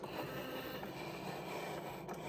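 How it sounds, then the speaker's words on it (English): A Cricut cutting machine cutting out an envelope, giving a steady, quiet mechanical whir and scraping rasp that runs continuously without pause. "press the flashing start button and your machine will go ahead and cut out the envelope"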